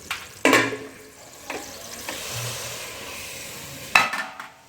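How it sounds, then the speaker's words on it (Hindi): Chicken drops into melted butter on a stove, giving a couple of sharp clatters and then a steady, moderate sizzle that carries on beneath further clinks of the pan. "अब ये देखिए मैं चूल्हा ऑन करती हूँ और इसमें मैं ये दोबारा से डालती हूँ चिकन"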